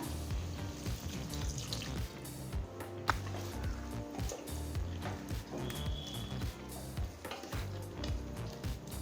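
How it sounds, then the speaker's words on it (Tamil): Half a cup of water pours into a pressure cooker of sautéed tomato and onion for Ambur chicken biryani, a steady continuous splashing stream running close and moderately loud for several seconds under kitchen background noise. "இப்போ 1/2 கப் தண்ணி சேர்த்துக்கலாம்."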